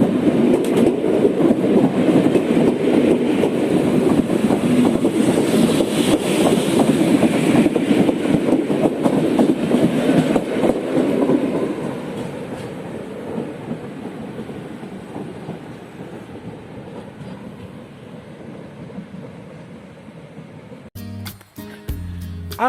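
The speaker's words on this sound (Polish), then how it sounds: "Odjeżdża pociąg Regio relacji Sucha Beskidzka Kraków Główny." A regional passenger train rumbles steadily close by as it pulls away from a Polish station, the roar fading gradually, followed by a few brief clicks at the end.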